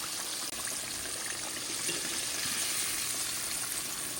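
Bream and catfish pieces fry in a flat cast iron pan, giving a dense, continuous crackling sizzle that stays steady and close throughout, with no voices.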